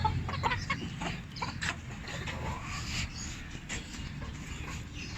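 Fancy crowned hens cluck and chatter close by in a busy pen, with scattered bird calls and a steady background hum throughout.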